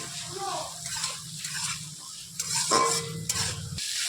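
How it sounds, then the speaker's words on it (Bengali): Chopped onions with salt are stirred in a frying pan, giving soft scraping and rustling strokes over a low sizzle. A brief clink of a utensil comes near the end, and a voice talks over part of it. "লবণটা দিয়ে আমি এক থেকে দু মিনিট একটু নাড়াচাড়া করে নিয়েছি"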